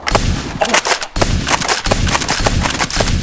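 A Nerf foam-dart blaster firing, a sharp pop followed by a brief gap, then a second burst of clattering mechanical clicks and rattles, close and loud.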